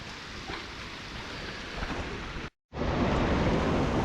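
Waterfall rushing in the Scottish Highlands, a loud, steady broadband roar of falling water heard close up, briefly cut off for a moment before resuming at full strength, with no talking.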